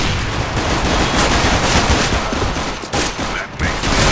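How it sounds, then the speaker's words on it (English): Loud, dense gunfire crackles continuously in a video game firefight while a flashbang grenade is thrown, with rapid bursts overlapping into one sustained roar and no distinct single detonation standing out. "Throwing flashbang"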